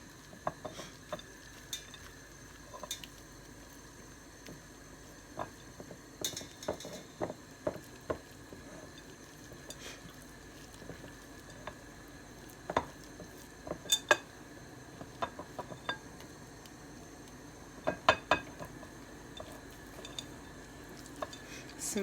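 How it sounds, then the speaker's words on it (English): Dough for an aubergine and raisin loaf being mixed by hand in a bowl, faint irregular stirring, scraping and clinks with occasional louder knocks in a quiet kitchen. "Now I'm going to mix it until it forms a dough."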